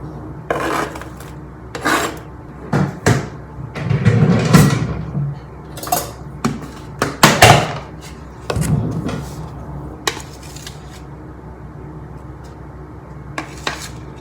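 Spoon scraping and stirring ground beef with onions and a little tomato sauce in a pan, giving irregular rasping scrapes and clinks against the metal, fairly close.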